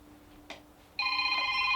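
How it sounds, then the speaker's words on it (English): A mobile phone rings indoors at an off-grid homestead, a loud sustained electronic tone starting after a short click and holding steady to the end. "Oh, my phone's ringing."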